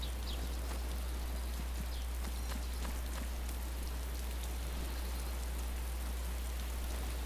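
Steady rainfall in the survival video game DayZ, a constant hiss of drops spattering on surfaces with a few sharper droplet taps, accompanied by a continuous low hum, with no talking.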